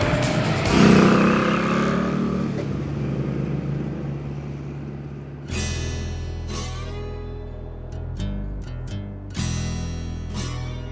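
An Indian Scout motorcycle ridden on the road gives a loud rising roar at first, then a steadier drone, followed by sharp gear changes and bursts of revving with abrupt throttle steps.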